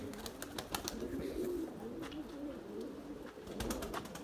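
Erzurum White breeding pigeons coo softly in a loft, low repeated throaty calls with scattered wing flaps and clicks, fairly quiet and close.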